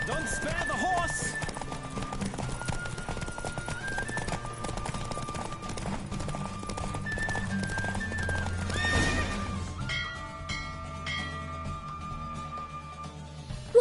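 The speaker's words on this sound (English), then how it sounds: "Don't spare the horse!" A horse gallops with rapid clip-clop hoofbeats and lets out loud neighs in The Witcher 3: Wild Hunt, under game music and voices, before the hooves stop and the scene quiets near the end.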